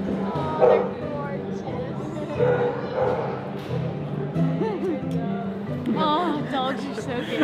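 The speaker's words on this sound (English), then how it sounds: "All the dogs are so happy to see their owners." Several dogs yip, whine and bark excitedly as they greet their owners aboard a ferry to Tasmania, in a lively, noisy space with people chattering in the background.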